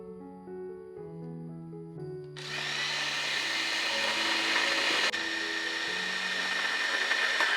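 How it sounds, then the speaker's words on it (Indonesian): After a quiet musical background, a small electric chopper starts up and grinds chilies and garlic continuously with a loud, steady whirring buzz. "Selanjutnya semua bahan ini tinggal aja kita chop sampai halus"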